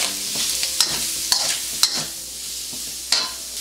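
Shrimp and green peas stir-fry in a hot wok for Yang Chow fried rice, a loud steady sizzle broken by several sharp clanks and scrapes from the spatula, no voices.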